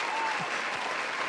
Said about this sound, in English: You got big applause there.